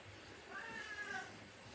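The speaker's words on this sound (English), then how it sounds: "Oh, comes the cat again." A cat meows in a workshop where a car's front seat lower cushion is being reupholstered, a single drawn-out, fairly faint cry over steady background noise.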